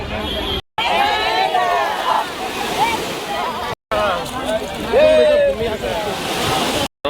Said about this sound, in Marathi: खूप सुंदर असा समुद्र आहे.